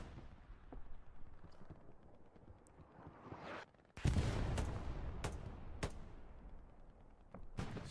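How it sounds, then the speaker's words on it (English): Battle sounds from Hell Let Loose on the Stalingrad map during a tournament match: a loud satchel charge blast booms at mid-clip, preceded and followed by sharp scattered rifle and machine-gun cracks, some near, some distant. "Satchel goes off in the distance."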